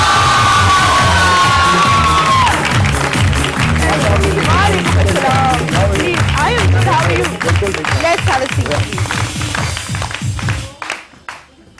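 Studio audience on a Mehekti Morning television show bursts into loud, sustained applause, cheers and whoops welcoming a guest, the clapping continuing under a host's voice before cutting off near the end.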